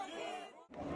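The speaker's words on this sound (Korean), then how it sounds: "지지자들의 환호 속 이재명 위원장 당진에 도착했습니다" A crowd of supporters cheers and shouts as Lee Jae-myung arrives at Dangjin market, a dense, close roar of many voices that dips for a moment and then swells again.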